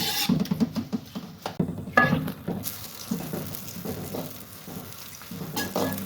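Roughly chopped onions, two large ones, sizzle and crackle in hot cooking oil in a kadai, with a steady frying hiss broken by frequent stirring clatters and scrapes close to the pan.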